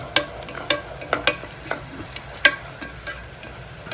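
Ginger frying in a pan for chicken curry: a spatula stirs and taps against the pan in sharp, uneven clicks over a faint sizzle, close by with no talking.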